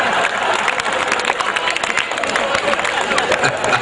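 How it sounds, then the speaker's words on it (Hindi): Applause from a live audience at a Hindi comedy poetry gathering, a dense, steady wash of clapping that holds at full strength for about four seconds without a break. "ताली वाली की बात कर रहे थे अशोक भाई"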